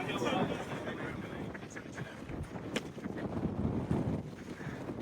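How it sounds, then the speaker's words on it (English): Heavy wind at a drone show at Odense Airport buffets the microphone in a steady, rumbling low roar that rises and falls, with people's voices faint underneath. "it's kind of heavy wind as well"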